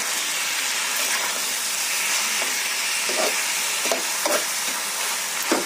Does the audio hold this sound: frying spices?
yes